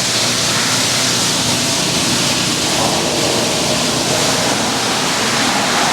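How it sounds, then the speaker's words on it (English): Water rushes out of a regenerative media filter tank into a waste drain as a loud, continuous, even roar that does not change throughout. "Now all the water is going to drain from our tank out into waste."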